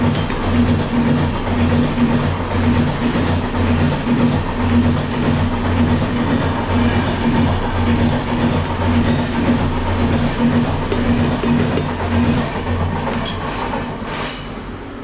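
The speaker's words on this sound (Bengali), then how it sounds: "এত ট্রেনের আওয়াজ।" A train runs past continuously for about fifteen seconds, a loud steady rumble with rattling wheels and clacking carriages, easing slightly at the end; nobody speaks.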